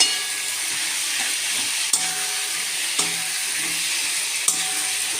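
Whole green chillies frying in a pan for Bengali kochu chingri, a constant close hiss of hot oil with a few sharp utensil taps spaced about a second apart, no voices.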